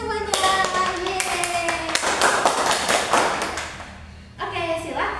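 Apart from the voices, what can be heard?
classroom applause, students clapping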